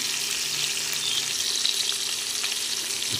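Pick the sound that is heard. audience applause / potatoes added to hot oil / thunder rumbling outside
potatoes added to hot oil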